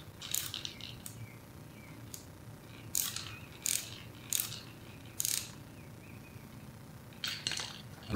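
A nylock nut on a Greenworks hedge trimmer being loosened with a ratchet, giving short bursts of quick clicking at irregular intervals, close and fairly quiet, with no talking.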